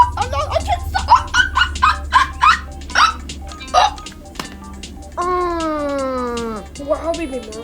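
Cartoon baby giving a rapid run of loud, squeaky hiccups in a steady rhythm, followed by a long sliding cry-like tone and one more hiccup, over a low steady hum.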